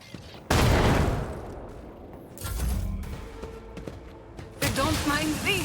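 A frag grenade bursts in the Warhammer 40K Rogue Trader video game with a sudden loud blast, followed by crackling debris and lower rumbling. Brief game sounds and tones come at the end.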